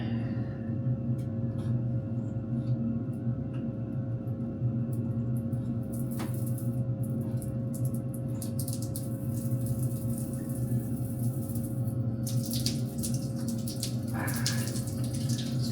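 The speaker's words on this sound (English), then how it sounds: "Well, we certainly got hot water." Hot water running steadily from a tap at low pressure into a basin, a continuous close splashing gush with a low rumbling hum underneath, lasting throughout with no talk.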